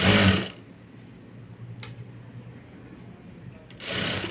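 A sewing machine stitching folded self piping onto a blouse runs in two short bursts, one at the start and one at the end, with a near-silent pause between them.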